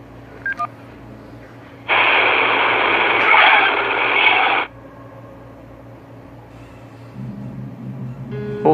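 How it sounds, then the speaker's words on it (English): A burst of loud hissing static on a voicemail recording cuts in for a few seconds over a faint hum, then drops back to quiet low noise with a few beeps. "The white noise in the background is broken by the faint whisper of the word grandpa."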